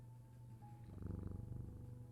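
A cat purring close up, a steady rhythmic rumble that swells in the middle, fairly quiet and alone.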